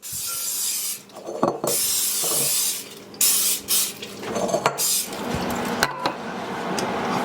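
Several hissing bursts from an olive oil spray can misting a bowl, each a second or so long, separated by short pauses and light handling noises.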